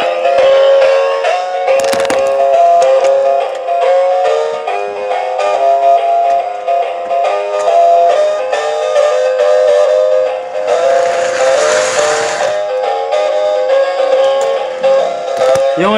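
A small toy train whistle toots repeatedly over a steady mechanical rattle, with a brief burst of hissing noise near the end. The train had not run in six years.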